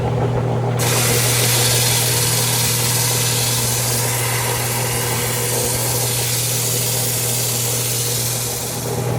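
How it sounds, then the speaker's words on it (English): Mocktuzuma agate ground flat against an 80 grit wheel, a loud steady abrasive hiss and whir over a constant motor hum, continuous and close with no pauses or talk. "now I'm just going to make sure I grind it down so these are all gone"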